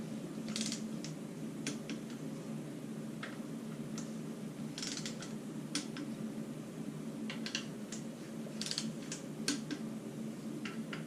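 Torque wrench clicking as bolts are tightened to 21 foot-pounds during a 2013 Dodge Durango Hemi engine build, a series of sharp mechanical clicks and ratcheting ticks spread irregularly over a steady low shop hum, with no talking.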